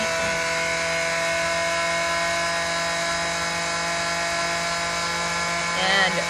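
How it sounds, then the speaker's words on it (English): A power saw runs steadily while cutting a paint stir stick, giving a loud, sustained whine with a constant tone and a brief rougher burst near the end. "So we are again gonna turn on the saw."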